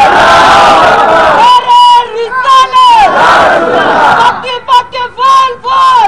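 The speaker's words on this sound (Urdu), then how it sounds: "اب تو زوردار نعرہ لگا دیں لوگ، نعرے تکبیر، نعرے رسالت۔" A large crowd at a Muslim religious gathering roars the Takbir and Risalat slogans, alternating a leader's call with loud massed shouted responses in repeated bursts, close and powerful.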